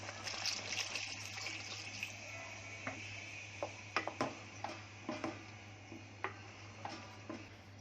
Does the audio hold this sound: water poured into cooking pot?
yes